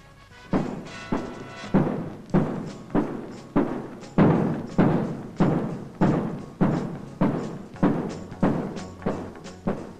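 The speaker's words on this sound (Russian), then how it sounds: "Это работает новая машина, взрывогенератор, изобретенный в Институте подземного машиностроения." An explosion-driven stone-cutting machine working on rock sends out a steady series of about a dozen heavy, regular thuds, roughly one every 0.7 seconds, each one loud and close with a short decaying tail.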